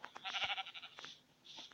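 Sheep in the video game Minecraft give a couple of quiet, wavering bleats, one longer call followed by a brief one, with no talking over them.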